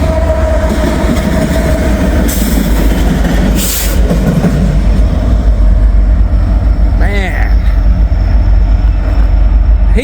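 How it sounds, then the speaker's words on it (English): An empty coal train with two distributed power units passing close, loud rolling rumble and clatter of wheels, with brief high squeals and a horn-like tone, and a person talking over it. "That's an empty coal train."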